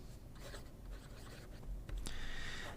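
A Delta fountain pen with a fine flex steel nib scratches softly across paper in short strokes, close and quiet, ending in a brighter sweep, with no talking.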